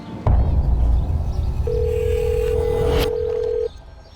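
A telephone ringing with no answer: one long steady ring tone over a low background rumble, cut off abruptly.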